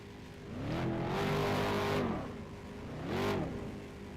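A modified race car at Berlin Raceway revs close by, engine pitch climbing and falling in one long swell followed by a shorter second rev.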